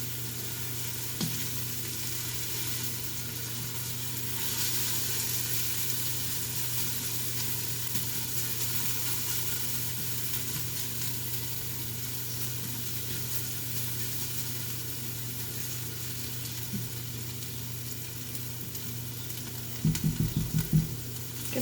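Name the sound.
onions frying in a pan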